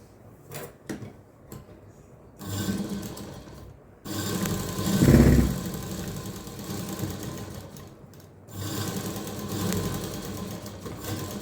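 A sewing machine stitches a finishing seam on a blouse, running in uneven bursts of rapid mechanical chatter with short pauses and a stronger, louder stretch in the middle.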